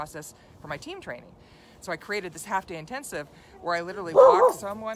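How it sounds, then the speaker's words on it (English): A pet dog barks and yips indoors, giving several short, sharp barks scattered through the clip while a person keeps talking over them. "oh, sorry, that's my dog"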